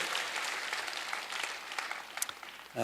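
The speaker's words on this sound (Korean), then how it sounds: "우리 감사한 마음으로 우리 박수 한번 하겠습니다" A church congregation at Sunday worship applauds in thanks to volunteers offering free health screenings, a brief burst of even clapping that stops abruptly just before the end.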